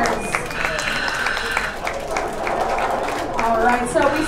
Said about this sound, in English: So let's all give our divers a big round of applause